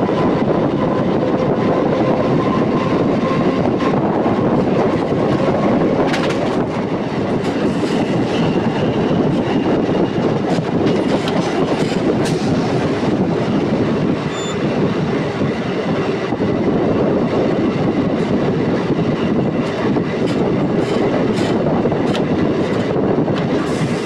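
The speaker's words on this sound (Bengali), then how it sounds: "প্রচণ্ড গতিবেগ নিয়ে ট্রেনটি তার প্রধান গন্তব্য স্টেশনের উদ্দেশ্যে ছুটে চলেছে।" Howrah–Tarakeswar EMU local train running at high speed, a loud continuous roar of wheels on rails with rattling clatter and occasional metallic squeals, sustained throughout with no voices.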